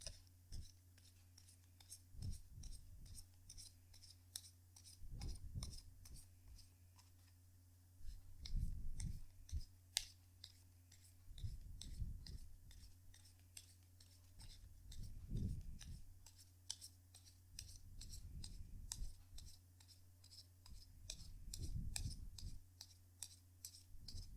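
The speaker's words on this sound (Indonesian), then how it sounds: "Jadi sebentar ya, kartunya dikocok dulu sebelum kita mulai, oke?" Tarot cards are shuffled close up in repeated bursts of soft riffling and slapping, several rounds spaced a few seconds apart, quiet against a low steady background hum.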